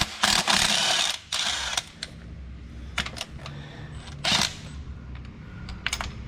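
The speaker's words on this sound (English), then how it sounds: "Switching over to a 5/8 deep socket is what we use to remove the spark plugs." Ratchet wrench turning a 5/8 deep socket to remove spark plugs from a Chevy 2.4 ECOTEC engine, giving several bursts of rapid clicking with short pauses between, close and fairly loud.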